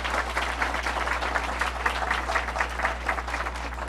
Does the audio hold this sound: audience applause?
yes